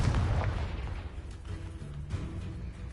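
A Confringo blasting spell goes off in Hogwarts Legacy. A heavy, booming explosion hits at the start, then rumbles and fades away over the next couple of seconds.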